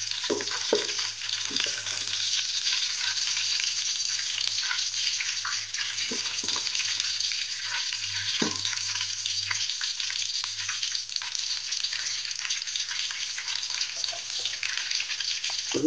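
Two green chillies frying in hot oil in an electric rice cooker give a steady, close sizzle throughout, with a few scattered pops and clinks, alone without talk.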